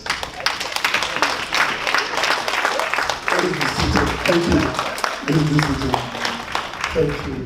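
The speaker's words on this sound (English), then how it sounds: "I want all the executive to stand up and clap for Professor Gold" Executives at an Ijaw diaspora convention session stand and clap for a professor, a steady wash of applause running throughout with voices mixed in beneath it.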